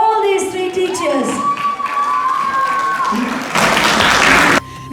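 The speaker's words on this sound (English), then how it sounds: "big round of applause for all these 3 teachers." At a Bay Area Telugu Association Deepavali celebration, a crowd applauds and cheers for three teachers, the clapping swelling into a loud burst after sustained musical tones, with shouts mixed in before it cuts off abruptly.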